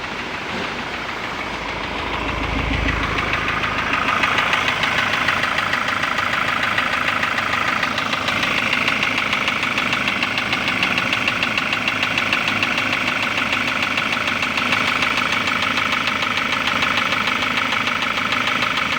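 A 2.0-litre Ford Ranger engine runs steadily after a top overhaul, its loud idle carrying a persistent rhythmic mechanical knock that continues unchanged throughout.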